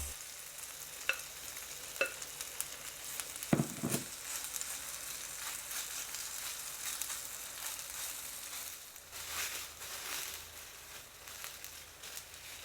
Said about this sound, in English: Add half of the okonomiyaki batter, spread it out, and cook for 3 minutes.